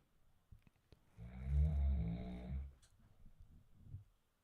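A dad snores in one deep, rumbling breath lasting about a second and a half, close and moderately loud, framed by quiet background noise and a few faint clicks.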